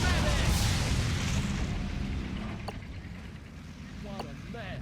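Artillery from a Priest self-propelled gun in the Blitzkrieg 3 strategy game, a deep rumbling boom over continuous low battlefield noise, with sharp distant cracks and a radio-style voice briefly heard.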